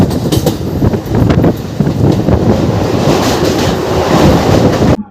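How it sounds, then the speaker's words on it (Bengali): A Howrah–Bardhaman fast main line MEMU local train runs at speed, a loud continuous rumble with rhythmic wheel clatter and heavy wind buffeting, cutting off abruptly at the end. "আমাদের ট্রেন ছেড়ে দিল একদম হাওড়া স্টেশন থেকে"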